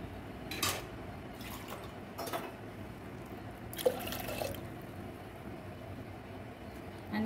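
Water is poured over washed lentils in a pressure cooker, giving a few short splashing pours and metallic clinks at close range, with quiet gaps between them and no talking.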